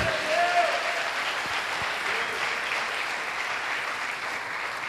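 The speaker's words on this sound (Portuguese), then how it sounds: "Aplauda o nome do Senhor." A church congregation applauds during a Baptist worship service, steady dense clapping that holds at an even level for the whole stretch, with a brief tonal voice near the start.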